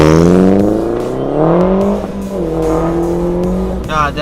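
A turbocharged MINI car engine revs hard and loud, with rising and falling harmonic engine notes that climb, dip and surge again over several seconds, close by, ending in a rough crackling burst.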